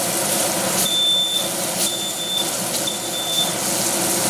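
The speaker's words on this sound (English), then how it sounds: "the alarm went off because of the smoke" A smoke alarm set off by cooking smoke during a pork sauté in a home kitchen, sounding as repeated high-pitched electronic beeps at a steady rhythm over a low engine-like hum of a range hood or fan.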